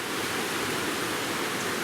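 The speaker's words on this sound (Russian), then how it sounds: "Слышно, как птички поют, как вода шумит." Steady rushing water in the rainy Wulingyuan mountains of China, a broad continuous hiss of a stream or cascade, close and even with no break, and no voices.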